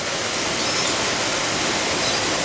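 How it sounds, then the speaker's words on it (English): Broad steady rush of falling water from a waterfall in the Malayan tiger exhibit at a zoo, constant and full, with no voices. "Kind of a snazzy exhibit in here with a waterfall and a"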